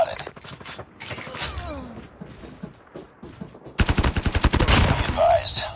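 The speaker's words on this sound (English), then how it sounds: "Sentry gun spotted." A sentry gun fires in a first-person shooter. Rapid, evenly spaced shots come in a loud, sustained burst after a stretch of quieter mechanical creaks and game noise.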